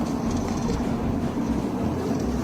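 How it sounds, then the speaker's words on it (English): Ride-on model train on an extremely long track, driving up a hill: a steady, close mechanical hum and rumble of the small engine and wheels, continuous throughout with no voices. "We're driving the train. We gotta make it up this hill."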